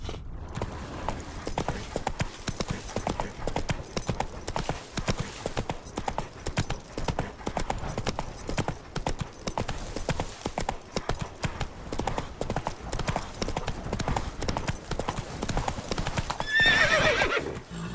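Geralt's horse Roach gallops in The Witcher 3, a fast continuous drumming of hoofbeats up close, with a whinny toward the end.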